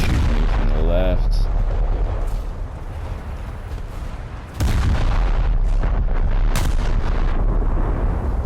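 Naval gunfire in the War Thunder video game, with a light cruiser trading shots in a naval battle: several deep booming cannon blasts, one near 4.6 seconds and more around 6 to 7 seconds, over a constant low engine and sea drone.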